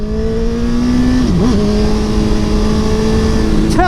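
An Aprilia Tuono V4 1100 Factory 2017 motorcycle accelerates hard, its loud, close engine note climbing steadily in pitch and dipping briefly at a gear change before rising again.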